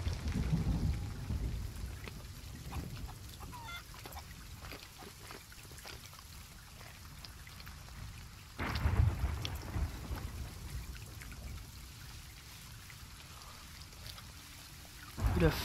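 Rain pours steadily in a stormy Sea of Thieves sea scene, with heavy thunder cracks near the start, around nine seconds and again at the very end. No one speaks.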